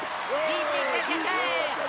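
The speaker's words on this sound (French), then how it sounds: "les gladiateurs quittent le cirque sous les hurrahs de la foule" A circus-arena crowd of Gauls and Romans cheers gladiators leaving the ring in an audio comic dramatization, a dense roar of hurrahs under a narrator's voice.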